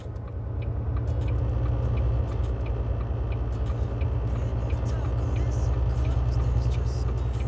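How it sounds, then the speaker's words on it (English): A semi truck downshifts on a mountain grade, its diesel engine a loud, steady, low rumble filling the cab throughout, with no clearly separate gear change. "So we're going to drop it a gear."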